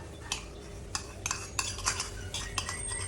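Butter being stirred into cassava bibingka batter, with a spoon clicking and scraping against the bowl in a string of irregular light taps over a soft steady hiss.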